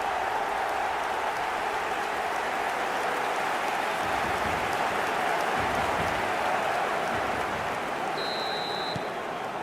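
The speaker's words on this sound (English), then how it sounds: "the crowd level has gone up a notch or 10" Stadium crowd cheering a Barcelona goal in eFootball 2026, a dense and steady roar of applause and cheering that sustains at an even level throughout with no break.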